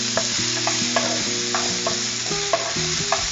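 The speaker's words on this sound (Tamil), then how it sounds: "இதுல இப்ப பைனாப்பிள் போட்டு வறுத்து வச்சிடலாம். இந்த நெய்லயே வறுத்து வச்சிடலாம்." Pineapple pieces frying in ghee for red poha kesari, with a steady sizzle and repeated scraping strokes of a spoon stirring in the pan, close and clear, no talk.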